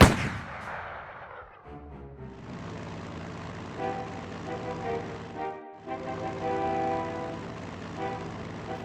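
Naval artillery in the Strategic Mind war game opens with one heavy, booming shot that rolls off, followed by a steady mechanical rumble cut by a short gap and then resuming loud and continuous.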